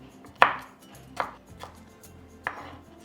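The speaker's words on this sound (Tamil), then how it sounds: "இந்த மாதிரி விதைகளை நீக்கிட்டு இதை வந்து பொடியாக தான் நம்ம நறுக்க போகிறோம்" A knife chopping ridge gourd into small pieces on a board: three distinct sharp chops spaced about a second apart, close and clear, with quiet between them.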